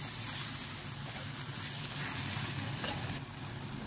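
Prawn roast with garam masala and curry leaves sizzles and fries steadily in a pan, a dense continuous crackle close up with no one talking.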